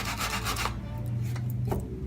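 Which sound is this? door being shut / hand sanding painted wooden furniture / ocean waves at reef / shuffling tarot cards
hand sanding painted wooden furniture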